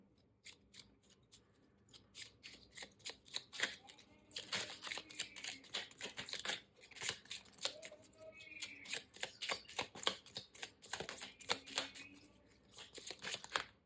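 Tarot cards are shuffled and flipped at close range: a quiet, rapid run of crisp flicks and riffles with occasional soft taps.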